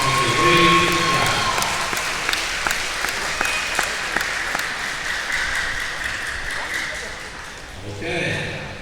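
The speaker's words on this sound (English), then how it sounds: "Let's give them all a round of applause as they wave to the crowd." Steady applause from an event crowd at a school homecoming queen ceremony carries on for several seconds with individual claps audible. A voice speaks near the end.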